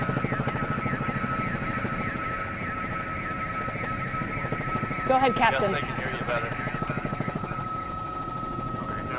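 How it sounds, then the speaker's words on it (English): Helicopter rotor and engine drone from a news chopper circling over a police chase after a robbery suspect in a stolen Chrysler PT Cruiser, a steady loud whir running throughout beneath continuous talk over a radio link. "you've got SkyTracker in the air"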